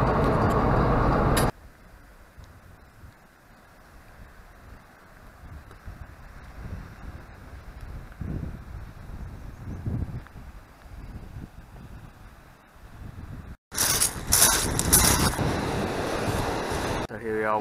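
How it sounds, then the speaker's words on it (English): Wind gusting at Weymouth Harbour on a sunny day, a steady low rumbling buffet with louder bursts at the start and end, fairly close, with some talk in the background. "bit of a chilly wind"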